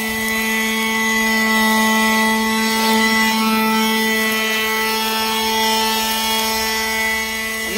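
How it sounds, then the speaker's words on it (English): A Ryobi One+ 18 volt electric leaf blower runs steadily at close range, giving a continuous high whine with strong tonal harmonics and an air rush that barely changes. "So I'm just trying to see what this new blower can do."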